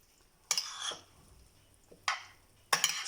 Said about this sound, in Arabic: وباش نحرك المكونات كلها مع بعض